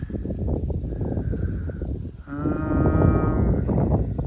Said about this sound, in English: Neighbors' cows are doing a lot of hollering.